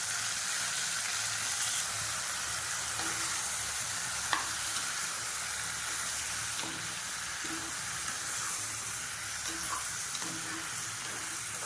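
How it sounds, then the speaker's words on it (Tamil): Small cut chicken pieces fry in hot oil with a constant crackling sizzle and occasional soft scrapes and taps as they are stirred, close and even throughout with no speech. "இது நல்லா நான் வந்து கிளறி விட்டுட்டு இதை வந்து வேக வச்சுக்கலாம்."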